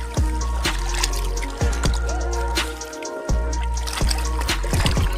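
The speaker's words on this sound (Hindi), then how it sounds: "आप लोग को दिखाएंगे कहाँ से पानी निकलता है यहाँ डैम से" Water runs and splashes at a dam outlet, with a steady flow under a series of sharp, repeated knocks and drips spaced about a second apart, fairly close.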